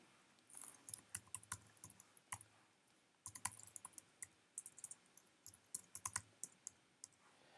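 Quiet, close computer mouse clicks and keyboard taps in irregular clusters sound while an invoice reminder is sent, with no talking.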